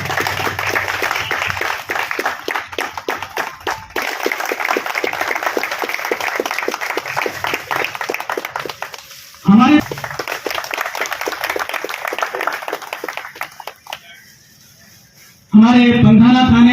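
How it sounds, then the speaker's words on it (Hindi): Applause at a Republic Day gathering in Pandhana, Khandwa, for the inauguration of 70 CCTV cameras with the MLA and DIG present. It runs steadily under a speaker's voice for about nine seconds, breaks briefly, then resumes and fades, with talking in bursts between. "तालियां बजती रहे।"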